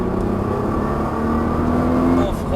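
A Nissan GT-R accelerates on a track, its engine drone rising steadily in pitch as it pulls, loud and continuous with a faint voice giving driving instructions over it.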